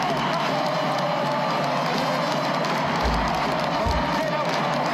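A stadium crowd at Emerald Headingley Stadium rises to applaud rugby league player Rob Burrow during a Leeds Rhinos versus Bradford Bulls match, a dense, sustained roar of cheering and clapping with a voice talking over it.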